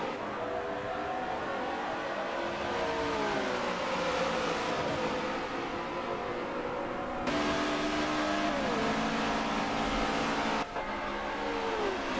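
Race cars roar off at the green flag of a qualifying race at Homestead Miami in a racing video game, with engines revving and rising in pitch as the pack accelerates, loud and continuous.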